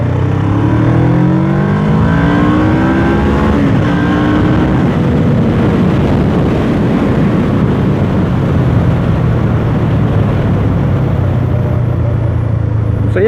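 Kawasaki ER6n parallel-twin motorcycle engine pulling hard under acceleration while riding, a loud, steady drone that rises in pitch over the first few seconds, then holds a broad rumble with wind noise.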